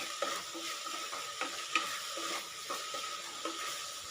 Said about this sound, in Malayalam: ഇത് നല്ലപോലെ സോട്ട് ചെയ്തെടുക്കുക.